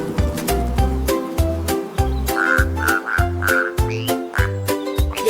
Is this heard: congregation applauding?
no